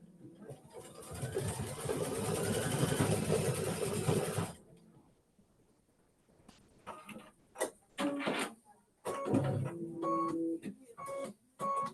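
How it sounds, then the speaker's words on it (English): A Kimberbell embroidery machine stitching out a quilt block, running with a steady mechanical whir for several seconds before stopping, followed by clicks and handling noises nearby. "So let me go ahead and stitch that one out."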